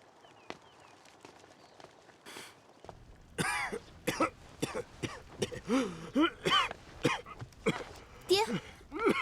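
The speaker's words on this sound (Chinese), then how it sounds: "屋里呢，一直咳嗽" An older man with a long-standing chronic ailment coughs repeatedly indoors, in harsh uneven bursts that grow louder and closer, with voices heard around them.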